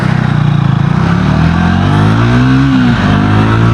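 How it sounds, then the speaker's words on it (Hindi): A Triumph Tracker 400 motorcycle with 40 PS accelerates hard through the gears, a loud close engine note rising in pitch with a brief dip at a shift, heard alone. "बाइक हर गियर में काफ़ी अच्छा पुल कर रही है"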